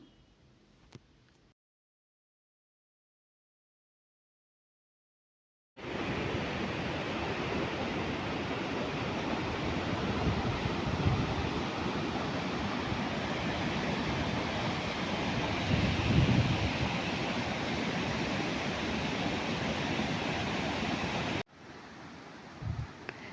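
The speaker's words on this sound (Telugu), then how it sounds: "వాటర్ చాలా స్పీడ్గా చాలా ఎక్కువగా వస్తుంది" The Jaderu stream at Jaddangi, swollen by heavy rains, rushes past as a loud, steady roar of fast floodwater that holds for about fifteen seconds between quiet stretches at the start and end.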